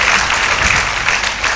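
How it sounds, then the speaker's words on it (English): Audience applause at a college gold medal function, a dense steady wash of clapping for about a second and a half with a faint voice underneath. "Let us give him a big applause."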